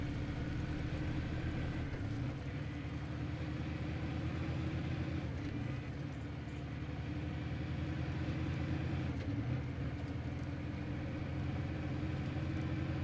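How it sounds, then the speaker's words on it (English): A truck engine in the SnowRunner video game roars in a steady, dense, unbroken drone throughout, loud and close, with no clear breaks. "with this engine blaring like this as I'm roaring through"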